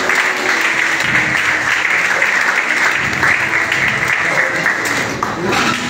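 Audience applause at a charity event with a prophet, steady dense clapping filling the room for the whole stretch, loud and continuous with faint voices mixed in.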